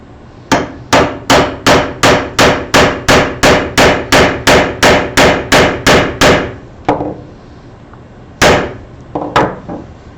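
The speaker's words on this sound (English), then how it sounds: "we sink that nail down below the surface about 1/8 of an inch" Hammer blows drive a nail set to sink a nail below the wood surface while building table sub-assemblies, about sixteen sharp, evenly spaced metallic taps close by, then a pause and two more strikes.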